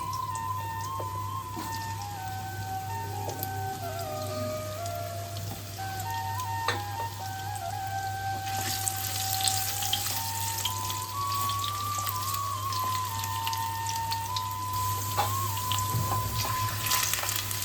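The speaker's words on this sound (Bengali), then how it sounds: "এদিকে তেলটা আমাদের গরম হয়ে গেছে। ডুমো করে কেটে রাখা আলুটা দিয়ে দিচ্ছি।" Diced potatoes frying in hot oil, a steady soft sizzle and crackle running throughout, fairly quiet and close, with faint background tones and no speech.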